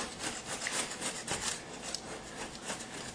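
A putty knife scraping filler across a wood door being patched, heard as repeated close rasping strokes, rough and scratchy with a rubbing rhythm, fairly quiet and with no talking.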